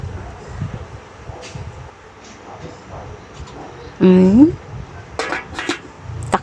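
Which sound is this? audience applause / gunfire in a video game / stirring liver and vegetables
stirring liver and vegetables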